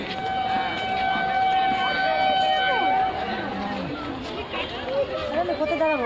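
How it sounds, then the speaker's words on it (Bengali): A train pulls into a railway station, its long, sustained horn blaring over a rumbling, clattering background while voices talk nearby on the platform. "ওদিকে ট্রেন চলে এসছে এদিকে ট্রেন এখনো পর্যন্ত আসেনি"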